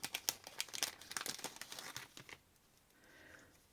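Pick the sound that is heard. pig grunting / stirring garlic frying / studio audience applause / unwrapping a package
unwrapping a package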